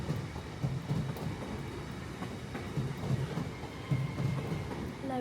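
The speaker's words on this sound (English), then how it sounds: "watched the trains pull in and depart." Trains pulling in and departing at a station, heard as a continuous rumble with wheel clatter and rail noise from a coffee shop seat, steady and moderately loud without talk.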